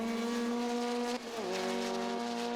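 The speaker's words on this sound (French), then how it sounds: "C'est un freinage à plus de 200 km/h juste avant le pont." Lotus Cup race cars at Snetterton circuit braking hard from over 200 km/h, a loud close engine tone dropping sharply as revs fall mid-way, then holding a steady lower drone.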